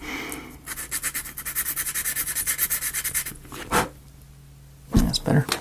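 A part of a small three ball instrument being sanded by hand, rapid rhythmic rubbing strokes close up for about three seconds, followed by a few scraping handling noises, with a voice speaking briefly.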